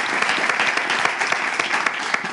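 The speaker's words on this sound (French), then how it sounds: "Nous le remercions avec des applaudissements bienvenus." Audience applause for a guest speaker at a French talk event, a dense, steady wash of many hands clapping close by, loud and continuous with no voices over it.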